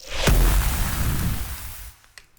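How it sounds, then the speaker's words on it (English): A big acid explosion sound effect from the video game Hyper Light Breaker: a loud, dense boom with a sharp attack that roars on for nearly two seconds, then drops to a faint tail with a small late crackle. "there's a big old acid explosion"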